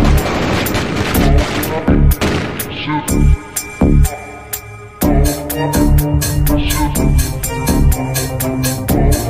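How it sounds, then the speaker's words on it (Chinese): Heavy bursts of automatic gunfire in an action film, dozens of rounds fired in loud rapid volleys with booming impacts, broken by brief pauses and resuming, all close and dominant. "结果46发子弹穿身而过"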